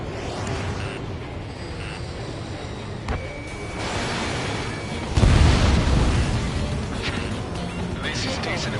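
Missile explosions in the Ace Combat 7 video game burst loudly amid roaring jet-combat noise, one heavy boom hitting midway, with radio voices talking over the action.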